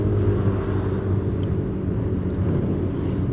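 Truck passing on a quiet road at a crossroads near Tumpang, Malang, a loud, close, steady low engine rumble with tire noise and no voices.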